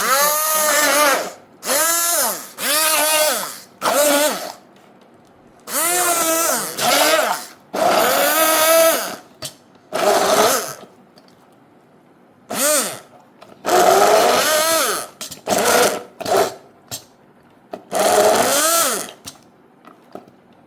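A mixer grinder jar blending carrot and orange for juice runs in a series of short, loud whirring bursts, each starting and stopping sharply with brief silences between, about nine pulses in all.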